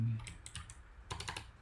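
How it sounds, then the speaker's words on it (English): Keys clack on the keyboard of a 1974 DEC VT50 terminal, built into the monitor unit, in two quick clusters of close, crisp strokes separated by a short pause. "It's a keyboard, it's attached with the monitor, but it's possibly the oldest keyboard I will ever own."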